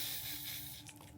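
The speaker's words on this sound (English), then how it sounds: "I'm just gonna spray" A short hiss of spray misted onto the lace of a glueless wig, one brief burst that fades quickly.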